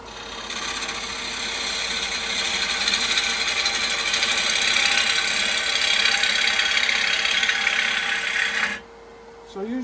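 A 40/40 grind bowl gouge cuts wood on a lathe, making a steady, close, broadband rasping hiss that runs for about nine seconds and then stops abruptly.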